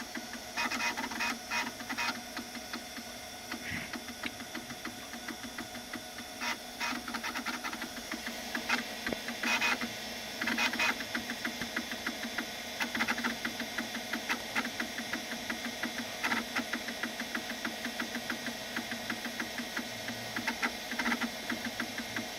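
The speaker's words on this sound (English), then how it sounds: "One of the things that's so weird about these old stepper motor drives, they don't sound like what you would expect a hard drive to sound." An old stepper motor hard drive inside a Macintosh SE ticks and chatters in fast mechanical bursts over a faint whir. The sound is fairly quiet and continuous, with no one speaking.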